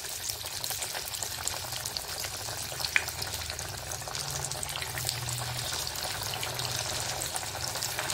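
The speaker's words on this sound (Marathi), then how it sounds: "आता आपल्याला हे डीप फ्राय करून घ्यायचे आहेत." Kothimbir vadi deep frying in leftover chakli oil, a steady dense sizzle and crackle of hot oil that holds evenly throughout, close up and uninterrupted by talk.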